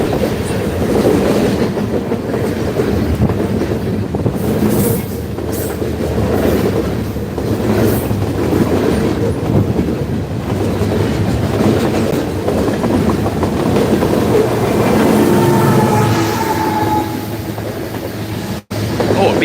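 A long freight train with a DPU locomotive rolls past in Emmett, Michigan, a loud, close, unbroken rumble with rhythmic wheel clatter and a faint wheel squeal late on.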